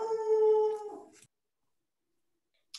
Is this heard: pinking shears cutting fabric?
no